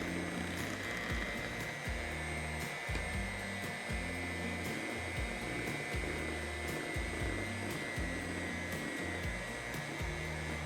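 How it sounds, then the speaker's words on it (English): An electric hand mixer whirs on low through banana bread brownie batter, a steady motor drone with rhythmic pulsing as the beaters churn for several seconds, no voices. "Now it says to blend for 1 minute. We're going to do it on low"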